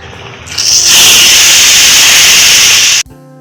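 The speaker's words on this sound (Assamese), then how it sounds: "কেৰাহীটো গৰম হ'ব দি তাত অকণমান তেল দি তেলখিনি গৰম হোৱাত আমি তাত অলপমান হালধি দি দিম" Turmeric dropped into hot oil in a wok while making raw mango chutney gives a loud, steady sizzling hiss that bursts up, holds for a couple of seconds, then cuts off abruptly.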